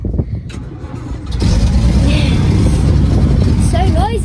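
A 1962 Bedford TJ truck engine without a working exhaust fires up and runs with a loud, rough, steady rumble, close by, with people talking over it.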